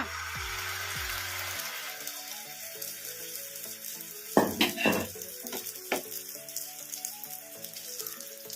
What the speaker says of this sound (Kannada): ಇದನ್ನ ಮೀಡಿಯಂ ಫ್ಲೇಮಲ್ಲೇ ಫ್ರೈ ಮಾಡ್ಕೋಬೇಕು